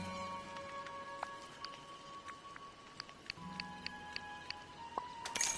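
Rain falls in the video game Disney Dreamlight Valley as a soft, steady patter behind chiming game music tones and occasional light ticks.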